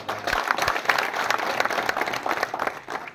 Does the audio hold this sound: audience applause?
yes